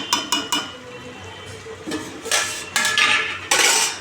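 Metal lid clanks and clinks onto a steel cooking pot of potato and ridge gourd curry in a home kitchen, several sharp clattering knocks spread over a few seconds, close and fairly loud.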